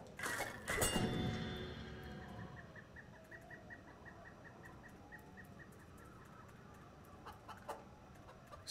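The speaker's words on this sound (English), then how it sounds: "Stupid chicken." Chicken clucking in a video game, a quick run of short rhythmic clucks after an opening squawk and thump, then faint scattered clicks in a quiet background.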